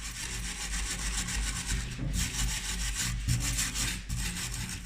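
Wooden cabinet door trim on a dining room display cabinet being rubbed by hand during restoration of natural wood furniture, a steady scratchy friction that keeps going with brief pauses, close and fairly quiet with no voices.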